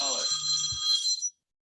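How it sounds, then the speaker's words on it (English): Phone notification chime: a short bright ringing tone with a clean tail that cuts off abruptly, over faint speech. "I meant to put my phone on no notifications."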